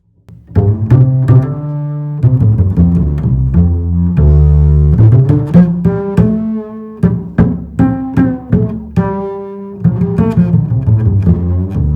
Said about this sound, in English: And the next pedal I have is a distortion pedal,